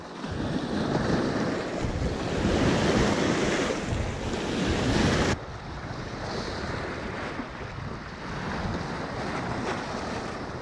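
Wind sweeps across Canton Lake in Oklahoma, a loud, steady roar with water lapping beneath. It eases to a lower, calmer rush partway through.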